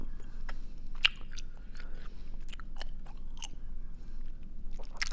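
Close, quiet, wet chewing of gum made with a biodegradable tree-sap base, with irregular soft clicks and smacks over a low, faint background.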